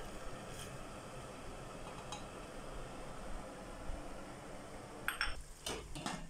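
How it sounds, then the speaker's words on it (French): A steady background hiss, then a short burst of light clinks and rattles near the end as almonds drop into a metal saucepan. "On va mettre l'amandier dans le casserole."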